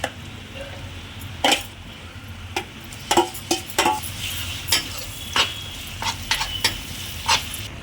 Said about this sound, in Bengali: এবার আমি চিকেনগুলো এই পেঁয়াজের মধ্যে দিয়ে দিচ্ছি